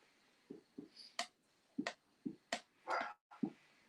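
A dog reacts to fireworks with a run of soft, quiet whimpers and yips mixed with sharp, faint pops spaced through the stretch, all at low level.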